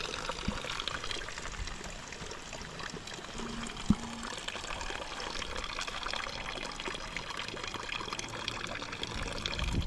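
Spring water on a farm drips and trickles through a hole in a continuous, close pouring stream, with one brief knock partway through.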